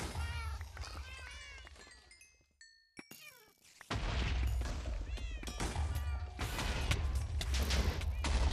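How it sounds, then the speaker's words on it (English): Cats in a Minecraft modpack meow over and over, in close, overlapping cries with a few dull thuds. The noise quiets for a moment, then grows louder and busier again. "Wow, those cats."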